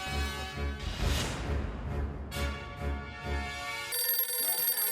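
A telephone rings while Jethalal is being called in a sitcom scene, a repeating electronic ringtone pattern over background music, ending with a brighter musical sting.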